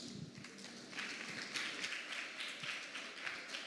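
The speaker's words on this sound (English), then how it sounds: "Let's give her another huge round of applause." An audience applauds at a student talks event, a crowd of many hands clapping in a dense, steady patter that swells a little after the first second, moderately distant.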